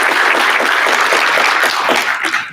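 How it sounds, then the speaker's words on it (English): Loud, dense applause from a large crowd at a regional spelling bee, steady throughout and tapering slightly at the end. "So a round of applause."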